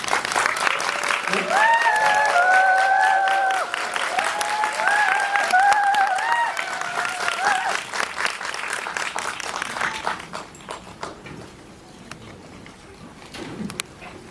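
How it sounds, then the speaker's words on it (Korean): An audience at a Korean film screening Q&A applauds as the director and an actor walk in, loud sustained clapping with excited cheers and squeals riding over it, fading to scattered claps near the end. "큰 박수로 강영철 감독님과 안재홍 배우 맞이하겠습니다."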